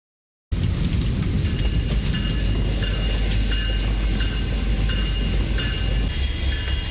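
A train at the Albuquerque train station rumbles steadily after a sudden start, with a dense low roar and faint metallic clatter throughout, loud and continuous with no voices.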